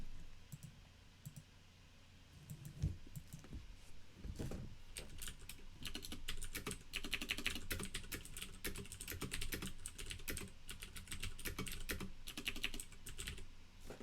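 Typing on a computer keyboard, rapid bursts of close, crisp key clicks and clacks that go on steadily for about fourteen seconds, with short pauses in between and no talking.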